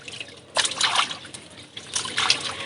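Water runs and splashes in two bursts as fish are rinsed by hand in a home kitchen, close trickles and sloshing that rise and fall, with no voices.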